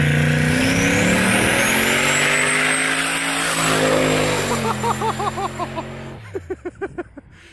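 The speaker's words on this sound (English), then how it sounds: "I'm hitting 10 pounds of boost during that pull." A turbocharged LS-swapped 4x4 Ford Ranger with a 4L80E transmission revs up hard on ice at 10 psi of boost, its pitch climbing as it accelerates, then drops into choppy bursts near the end.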